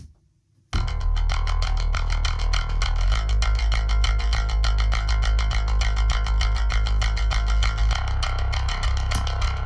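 After a short pause, a bass guitar DI through an 1176-style compressor plays steadily, full low end with a fairly clean, even, compressed tone, sustained for several seconds.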